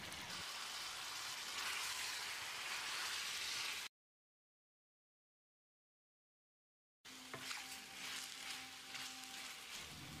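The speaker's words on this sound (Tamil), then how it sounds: "நம்ம க்ளீன் பண்ணி வச்சுருந்த சிக்கனை சேர்த்து 1 நிமிஷம் ஃப்ரை பண்ணிக்கலாம்." Chicken pieces frying in a pan with ginger-garlic paste hiss and sizzle in a steady crackle, cut by a silent gap before the sizzling resumes with a faint hum underneath.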